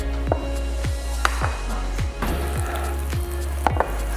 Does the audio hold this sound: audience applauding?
no